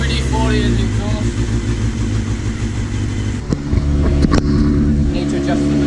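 A Honda MC22 CBR250RR motorcycle engine idles steadily and close, a dense even drone with brief blips around the middle, running rich with oil and WD-40 in the exhaust.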